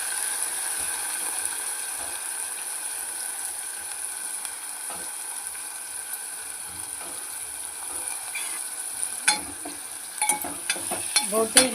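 Goat tripe (boti) frying in a pan after golden-brown onions, with a steady close sizzle and hiss, occasional stirring scrapes and clinks growing busier toward the end.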